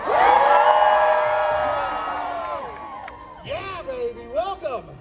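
A crowd of spectators at Knott's Scary Farm screams together in a loud, sustained mass yell that tapers off, followed by scattered whoops and cheers from individuals.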